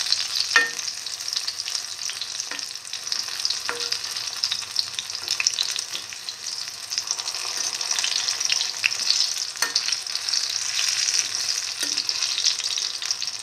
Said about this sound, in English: fry till all the fritters are golden brown.